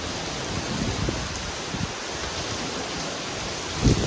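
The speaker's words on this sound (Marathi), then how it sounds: "तुफान खूप जोरात पाऊस आहे" Heavy rain pours down in a steady, dense hiss that fills the whole scene, with a brief louder splash near the end.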